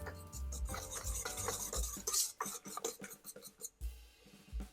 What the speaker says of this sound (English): Set this on top and mix the sugar into the egg whites